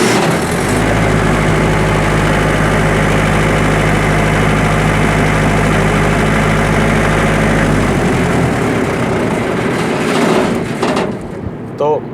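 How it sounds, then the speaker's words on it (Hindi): An engine started with a control panel's run button roars loudly and steadily at close range with a deep, heavy drone, then eases and shifts in tone near the end. "हमारे सामने एक इंजन है, हम जब रन का बटन दबाते हैं तो इंजन फ़ौरन चल जाता है।"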